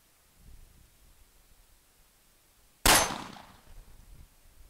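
A single loud gunshot from a Remington 1858 New Model Army .44 black-powder revolver firing round balls and conicals cracks out sharply, then decays into a short rumbling tail outdoors, with quiet rustling before it.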